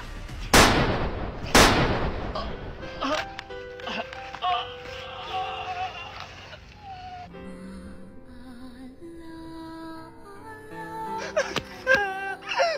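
Two sharp, loud gunshots crack close together near the start, followed by wailing, whimpering voices and scattered shouting.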